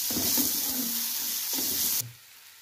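Onions sizzle steadily in hot oil with ginger garlic paste while being stirred, a bright continuous hiss with soft clinks of a spoon, ending abruptly near the close.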